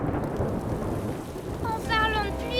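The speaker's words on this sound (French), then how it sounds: "En parlant de pluie, ça y est, la voilà." In a cartoon setting, a storm rolls in with a low rumble of thunder and a steady wash of rain, loud and close, followed by a brief tonal cue at the end.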